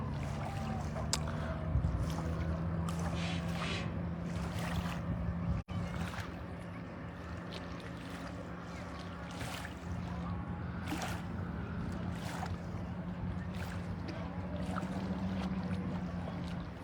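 Boats idle on a lake during a balloon launch, with a steady low motor hum under faint water lapping and scattered knocks, fairly distant and continuous.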